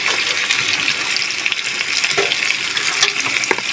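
Potato and taro frying in spiced oil in a pan, a steady loud sizzle and crackle with faint stirring scrapes throughout, no voices.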